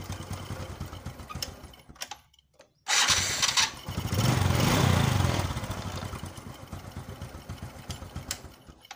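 A Honda Supra X 125 motorcycle engine starts after a starter repair: a brief pause, then the engine catches loudly and revs up before settling into a steady, close idle, with no talking.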